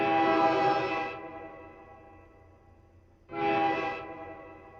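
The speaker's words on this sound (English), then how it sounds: "Me versus the train horn." A train horn sounds twice, each long harmonic blast lasting about a second, separated by a quiet gap of distant rumble, fairly loud and near with no talk over it.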